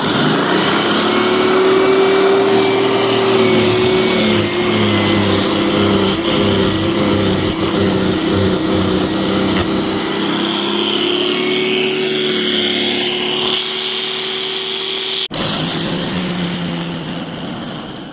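A SENIX electric dethatcher with a 13 amp motor running continuously, a loud, steady motor drone with whirring tones and slight pitch shifts, close up and alone.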